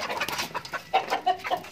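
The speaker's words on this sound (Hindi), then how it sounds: "ये देखिए दोस्तों ये हमारी मुर्गी है देसी" A desi hen clucking in a backyard bird setup, a few short soft clucks close by, alone without talk.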